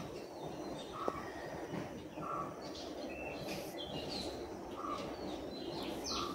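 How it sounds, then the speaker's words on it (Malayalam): Birds chirp outdoors in the morning: faint, scattered tweets and a few soft coos over a quiet, steady ambient hush. "അപ്പോൾ പുറത്ത് ഭയങ്കര കിളിയുടെ ശബ്ദമൊക്കെ കേൾക്കുന്നേ."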